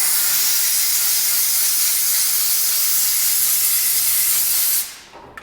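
Oil sprays steadily onto a Glock pistol slide in a light coating, a close, continuous hiss lasting nearly five seconds before cutting off abruptly.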